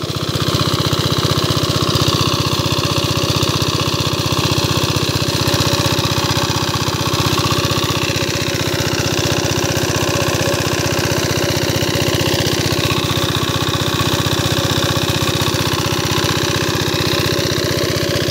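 A 4 HP diesel irrigation pump engine with a 3.5-inch delivery runs steadily at close range, a loud, even chugging drone with a rapid mechanical throb and no pauses.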